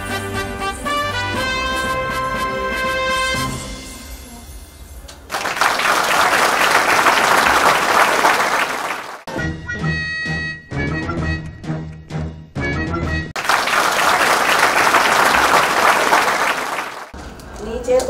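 A studio audience on a Telugu television game show breaks into loud, sustained clapping twice, each burst lasting several seconds, with musical stings between the rounds of applause.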